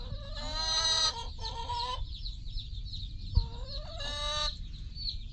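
A brood of newly arrived chicks chirps in a steady high peep, broken by several louder, harmonic clucking calls close by.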